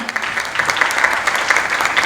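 Audience applause and cheering at the Miss & Mrs. Pune Pride 2020 beauty pageant fashion show, a dense, steady burst of clapping from a large crowd filling the whole moment with scattered voices mixed in.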